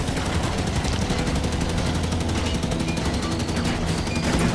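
Dense, continuous gunfire from a cannon and turret in the video game Halo 5 rattles throughout, rapid repeated bursts layered over a busy battle din, with no talk.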